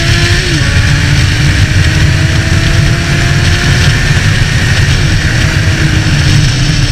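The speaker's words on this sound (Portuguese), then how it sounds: "Olha o som na moto, que delícia." Honda CB650F motorcycle with its original exhaust revving hard while riding, a loud continuous engine roar with rising pitch sweeps as it accelerates through the gears, close and steady throughout.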